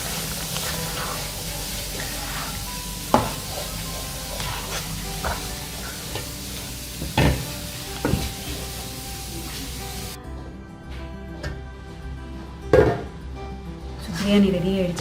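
Mushroom biryani of seeraga samba rice stirred in a pot, with repeated scraping strokes and soft clinks of the spoon against the metal over a steady background hiss and a faint voice.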